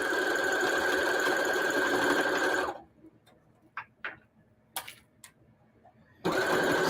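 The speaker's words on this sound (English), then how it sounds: "Yep, it's sewing." A sewing machine runs steadily while stitching a fabric journal cover with a pen pocket and page holder, stops for a stretch of quiet with a few faint clicks and taps, then starts up again at full speed.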